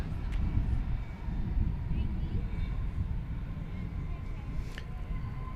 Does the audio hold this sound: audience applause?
no